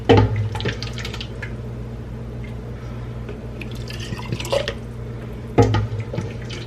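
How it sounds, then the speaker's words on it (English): Pepper soup is ladled into canning jars: wet splashes and liquid pours land in bursts at the start and end, with softer drips and clinks in between against a quiet kitchen background. "we're just going to fill up our jars."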